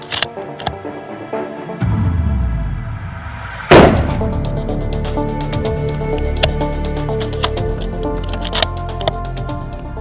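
A Sako 85 Carbonlight rifle fires once at a 100-meter range: a single sharp, loud close report cracks out partway through, followed by a long, ringing noisy tail.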